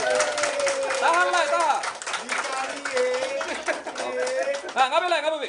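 Wedding guests clap and cheer after the groom kisses the bride's forehead. Dense, lively clapping blends with overlapping voices and chatter for the whole stretch, swelling again near the end.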